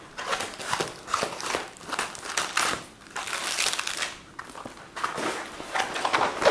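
A large diamond painting canvas is unwrapped from its packaging, with irregular bursts of crinkling plastic and rustling close by, rising and falling over several seconds.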